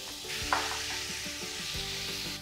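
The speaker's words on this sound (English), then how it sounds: "When you hear the sizzle voice, Then it's ready." Marinated pork sizzles steadily in hot oil, a continuous crackling hiss with faint stirring scrapes, close by and without speech.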